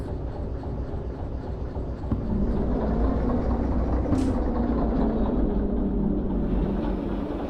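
Locomotive in the VR train game Derail Valley moving forward: a steady low engine rumble and rolling drone, louder after a slight bump two seconds in, with no talk.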